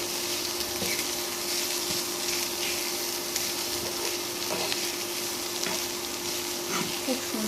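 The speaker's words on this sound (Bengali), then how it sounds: "মোচাটাকে ভেজে নেব। এভাবে একটু নাড়লে মোচাটা নরম হয়ে যাবে।" Chopped banana blossom fries and is stirred in a pan, a steady close sizzle with scattered scraping and stirring ticks running throughout, no talk.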